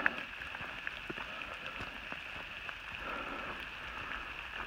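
Rain falls on a hiking trail on the Appalachian Trail, with a faint steady patter and scattered soft drips over a quiet outdoor hush.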